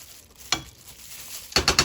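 Beans cook in a pan, a soft low sizzle punctuated by a short scraping stir and then a quick cluster of three louder scrapes near the end, close by.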